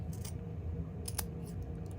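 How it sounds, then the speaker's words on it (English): Scissors snip through knitted yarn on a knitting-machine project, with a couple of quick, close cuts over a low, steady room hum. "I am going to take my scissors, I know, scary town, and I'm just gonna cut it off."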